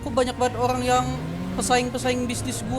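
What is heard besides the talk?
No everyday noises stand out.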